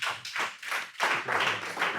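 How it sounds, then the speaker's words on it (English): A small group claps at a pharmacy expo event, a short uneven run of close claps in two brief bursts, fairly quiet. "So please help me clap for him again."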